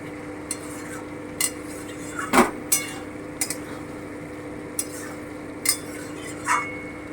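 A metal lid is lifted off and set back on a pot of simmering mutton liver kosha, giving a scatter of sharp clanks and clinks spaced across several seconds over a low, steady cooking hiss.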